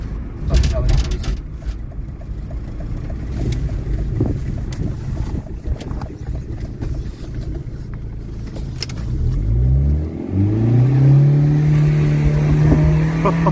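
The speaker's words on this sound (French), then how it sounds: "l'embrayage est collé quand je donne les gaz, elle lâche tout d'un coup. Putain. Ouais, elle patine à mort là." A car engine with a slipping clutch revs hard, and its pitch climbs and holds high near the end. Wind buffeting and people talking run through it.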